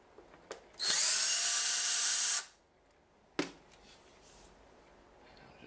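A power drill backs screws out of a figure in a close, loud, steady whir lasting about a second and a half. Then comes a short tap, with quiet handling noises before and after.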